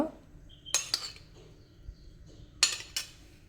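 A spoon clinks against a bowl while flour, sugar and ghee are mixed for crisp bakery-style shankarpali. There are a few sharp, quiet clinks at irregular moments over a soft background, with no talking.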